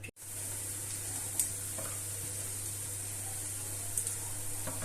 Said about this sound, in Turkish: kıymamızı da ekliyor. O da yavaş yavaş kavrulsun